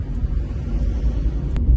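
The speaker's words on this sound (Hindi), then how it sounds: "और ये देखो जी इतने बड़े बड़े ट्रक्स हैं।" Large trucks on a road beside an LRT construction project, heard as a steady low rumble and hum of heavy traffic passing close by, continuous throughout.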